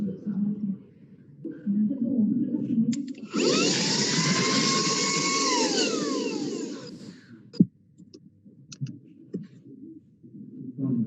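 A vacuum suction tool used for handling LED display modules runs for several seconds with a steady whine and rising tonal sweeps, starting and stopping abruptly, with a sharp click afterward and a voice talking around it.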